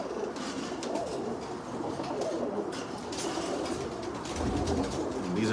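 Racing pigeons coo continuously inside a loft, a dense, close chorus of low throaty calls and rustling with occasional flutters, holding at a fairly loud, steady level throughout.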